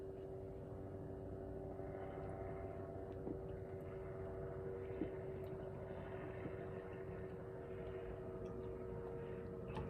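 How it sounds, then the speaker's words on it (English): A helicopter flies overhead at a distance, a faint, steady droning hum with a constant engine tone that holds evenly throughout, with no one talking. "What do we think that helicopter is after?"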